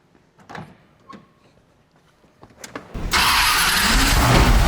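A 1970s Plymouth Cuda 426 Hemi convertible starts up after a few faint clicks and knocks, then a loud, deep, steady engine roar takes over and keeps idling close by.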